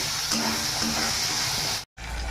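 Tomatoes frying in a pan for tadka dal with turmeric, a dense, even sizzle held close and loud, broken by a brief cut to silence near the end.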